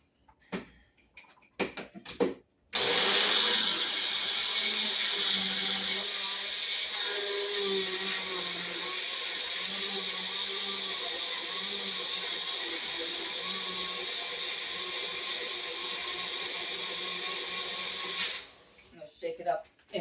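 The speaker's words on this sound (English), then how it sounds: "So I'm going to blend it up." Blender whirring through apple cake batter, a loud steady motor drone running about fifteen seconds after a few short preliminary clicks, ending abruptly, alone without talk during the run.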